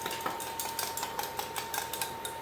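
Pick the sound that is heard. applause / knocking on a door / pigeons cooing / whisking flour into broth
whisking flour into broth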